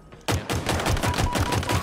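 Shock rifle fire in the video game Halo Infinite: a loud, rapid burst of repeated punchy shots following a sudden onset, continuing evenly with no voices.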